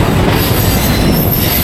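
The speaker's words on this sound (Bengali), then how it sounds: "আর এটা হচ্ছে শালিমার পুরী ধৌলি এক্সপ্রেস। এটা এখন পুরী যাচ্ছে শালিমার থেকে।" Shalimar–Puri Dhauli Express hauled by a WAP7 electric locomotive rolling past on the line toward Puri, a loud, steady broadband rumble of wagons and wheels on rails with faint squeal, close and continuous, no voices.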